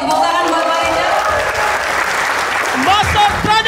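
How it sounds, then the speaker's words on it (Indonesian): An audience at an Indonesian sales leadership seminar breaks into loud, sustained applause, with a voice calling out over the clapping near the end. "boleh bertepuk tangan yang luar biasa"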